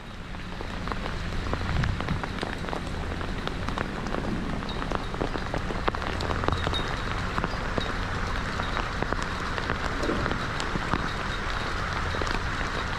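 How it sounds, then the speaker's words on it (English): Hailstones pour down outdoors during a rock-fishing trip, a dense, continuous patter of hard impacts with scattered sharper clicks and taps, steady and close throughout. "I thought hailstones were supposed to just be a quick short thing, but this seems to be going on for quite a while."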